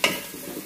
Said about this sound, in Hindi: अभी इसमें भी डालते हैं भिंडी, ताज़ा सब्जियां